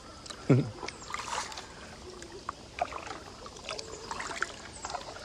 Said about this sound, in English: I'm just paddling along